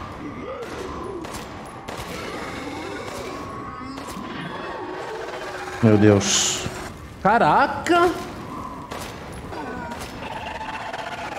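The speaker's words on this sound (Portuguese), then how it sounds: "4 tiros na cabeça, eles morrem." Gunfire from the video game Resident Evil Village: Shadows of Rose, a few sharp shots in two short bursts, loud over game ambience while a man exclaims between them.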